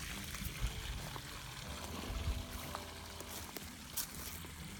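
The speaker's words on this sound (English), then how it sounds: "There's our creek." A small creek flows past a greenhouse site, giving a steady, soft rushing and trickling wash that runs evenly throughout at a moderate distance, with no voices over it.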